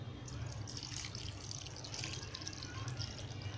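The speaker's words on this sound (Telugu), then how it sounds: "ఒక 1/2 లీటర్ గ్లాసు వాటర్ వేస్తున్నానండి." Half a litre of water poured from a glass into a pot of mixed fish curry, a steady faint splashing and trickling that runs throughout, with no voices.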